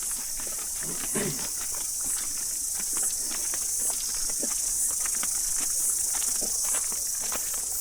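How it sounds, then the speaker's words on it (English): Cicadas sing in a New Zealand forest in the Hunua Ranges, a dense continuous high buzzing chorus, with footsteps and brush rustles close by as someone walks. "Look at Cicada"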